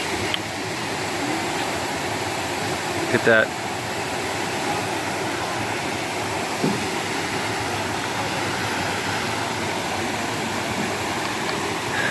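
Wilderness waterfalls give a constant broadband rush that stays steady throughout and fills the air, while a person speaks briefly over it.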